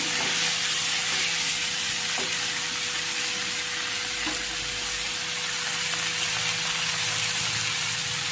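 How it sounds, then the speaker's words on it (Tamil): Tomatoes sautéing in a pan for a chicken curry, a steady broadband sizzle with a few soft stirring knocks, continuous and close with no talk. "இந்த தக்காளி எல்லாம் நல்லா வதங்கி வரணும்."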